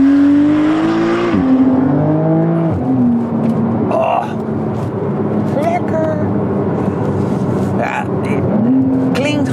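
Porsche 992 TechArt fitted with an Akrapovic exhaust, the engine droning steadily from inside the car, with repeated quick revs and gear changes over a constant road and cabin rumble.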